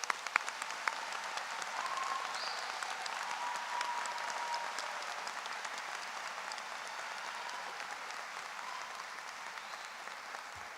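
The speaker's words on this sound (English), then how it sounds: "let's give a big round of applause to all our master's and PhD graduates today" The audience at the University of Pittsburgh School of Medicine 2024 graduation ceremony applauds master's and PhD graduates, a large hall's steady, dense clapping that holds evenly for about ten seconds.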